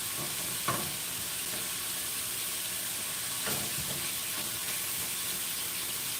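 Steak for a Philly cheesesteak frying on a hot griddle, giving a steady bright sizzle with a few brief scrape-like bursts, continuous and fairly close with no talking.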